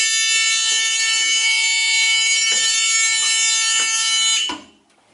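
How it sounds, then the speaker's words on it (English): The rear emergency exit door alarm on a Thomas Conventional school bus gives a loud, continuous high electronic buzz for about four seconds, with faint thumps under it, and then cuts off abruptly. "you will hear the alarm go off."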